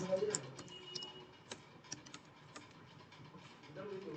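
Keys tapped on a computer keyboard while coding JavaScript, with irregular light clicks and short bursts of typing, faint and close, with low background noise.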